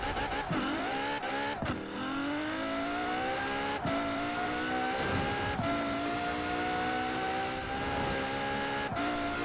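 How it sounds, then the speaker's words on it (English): An Apollo sports car engine in Forza Horizon 4 revs and climbs through gears with a harsh, high whine, briefly dropping at shifts, continuous and close throughout. "let's do another one of these revs"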